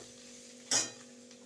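A curry of figs and gandal leaves sautéing in a pan makes a low, steady sizzle, with one brief scrape of a utensil stirring partway through.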